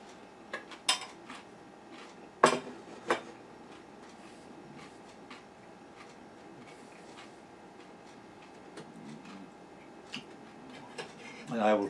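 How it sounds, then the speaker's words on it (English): Spoons swapped at a table over soup and salad, a few sharp metallic clinks of cutlery and dishes spaced out over quiet room noise. "And I will trade spoons."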